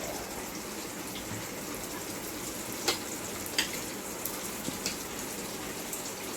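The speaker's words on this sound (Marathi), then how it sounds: "हे पहा, आता आपले खेकडे फोडणीला जात आहेत." Large crabs crackle and sizzle steadily in hot spiced oil tempering in a big pot, a soft continuous hiss with a few sharper pops.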